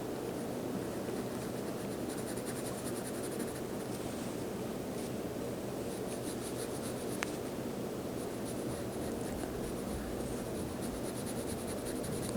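Graphite pencil, alternating 2B and 4B, shading tone into a portrait drawing on paper: a steady, close, soft scratchy rubbing that runs continuously with no pauses and no talking.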